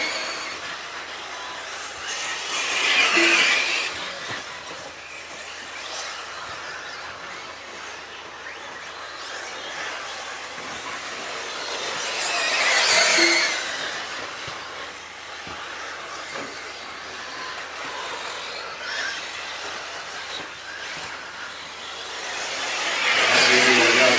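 Electric 1/8 scale RC buggies race past on a track, their high whine swelling as they approach and fading away, in three distinct passes over a quiet background.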